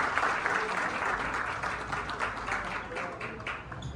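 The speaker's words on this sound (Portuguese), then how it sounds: "Levanta uma salva de palmas pra ele, gente." An audience at a live talk event applauds in steady, dense clapping that lasts about four seconds, with a voice speaking faintly underneath.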